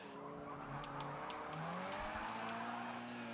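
B-class race cars in Forza Motorsport 7, led by a big American car, produce continuous engine drone and tire squeal, with a sputtering engine note under the steady racing noise. No one speaks.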